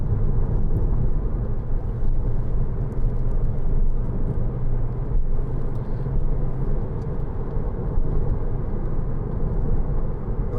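A Porsche Cayman 2.9 987 two-door drives through bends on a very bumpy road, its engine a steady, loud low drone mixed with continuous road rumble and tyre roar heard from inside the car, with no talking.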